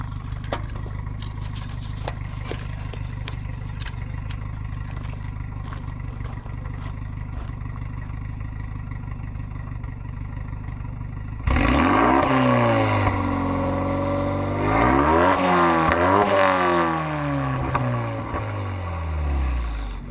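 Heard from behind, a Renault Megane Trophy R and a Subaru Impreza STI start at a steady rumbling idle, then the engines rev hard in several loud rising and falling blips.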